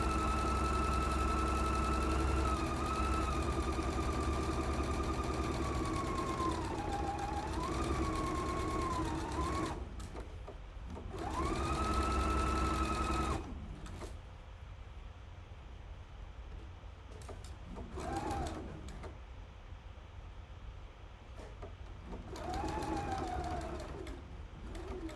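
Sewing machine stitching around a pocket: a dense motor whir in long continuous bursts, separated by short pauses and shifts in speed, with a pitched whine rising and falling over it, close and moderately loud.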